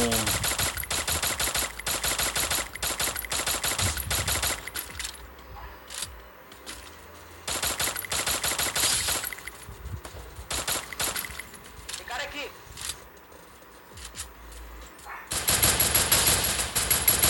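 Automatic weapon fire in the video game Free Fire comes in long, loud rapid bursts separated by quieter gaps.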